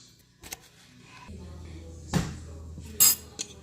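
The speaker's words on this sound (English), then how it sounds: "use a spoon to put it into the pans" A spoon scoops crustless quiche batter into muffin pans, giving a few light clinks and scrapes of metal against the pans at close range.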